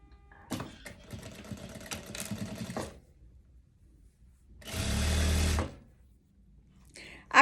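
A sewing machine runs a hem on a long kaftan in short bursts, a rattling whir for a couple of seconds, a pause, then a steadier louder run, with someone talking briefly.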